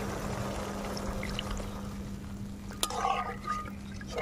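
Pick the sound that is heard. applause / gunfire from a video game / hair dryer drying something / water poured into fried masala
water poured into fried masala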